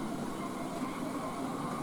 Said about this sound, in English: We have a Midland and Great Northern train passing west to east, and it goes over the up full minerals.